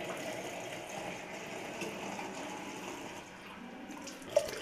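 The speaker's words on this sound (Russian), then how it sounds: "Вот один кран только работает" Water runs steadily from a single working tap, a continuous close rushing flow with a brief knock near the end and no voices.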